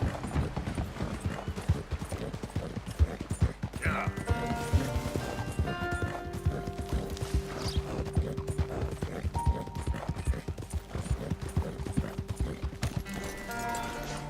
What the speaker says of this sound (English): Entro con el caballo aquí.